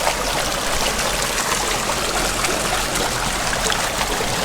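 Creek water streams steadily in a desert canyon wash, a continuous close rushing and trickling with no voices.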